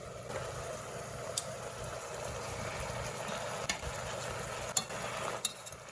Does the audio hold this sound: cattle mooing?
no